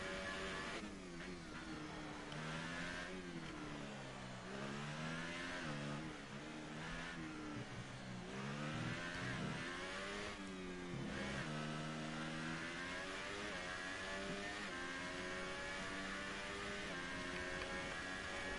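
Racing car engine on a flying lap in an online league race at the French round, a loud high-revving whine climbing through the gears with quick downshift dips and rises, sustained throughout.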